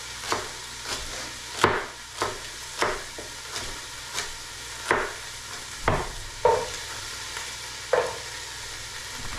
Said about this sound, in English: now I'm going to stir it a little bit